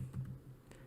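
Keys on a computer keyboard are tapped while typing Java code, a few quick soft clicks close by in a quiet room.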